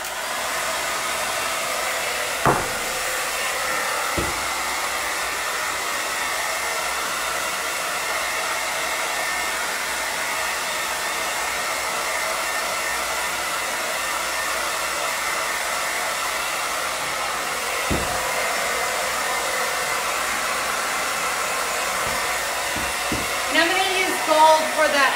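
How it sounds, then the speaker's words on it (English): A hair dryer blows continuously for a long stretch, a loud steady whooshing whine close by, with a few brief bumps and clicks, including near the end. "while I'm blow drying"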